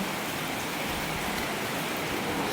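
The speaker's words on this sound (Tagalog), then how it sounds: "itong ulan na to, walang kasamang hangin" Steady rain pours down in a dense, even hiss, constant and close, with nothing else breaking through.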